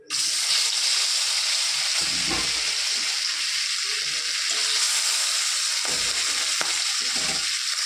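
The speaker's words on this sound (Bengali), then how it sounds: "মাছটা আমার ভাজা হয়ে গেছে এখন তুলে নেবো" Hilsa fish fries in hot oil in a wok for shorshe ilish, giving a loud, steady sizzle and crackle that runs the whole time, with a few soft clinks of utensils.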